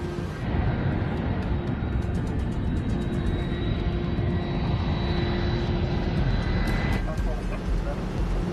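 An airliner on final approach to Kennedy airport in New York gives a steady, loud roar of engines with a thin high whine running through it, while a voice talks over the noise.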